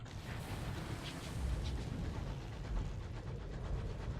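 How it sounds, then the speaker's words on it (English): Low, dense rumbling creaks fill the surrounding area in Sunless Skies, a steady, ominous groaning drone that swells slightly at moments and runs continuously without any talk over it. "The general creaking of the whole area we're in is unsettling."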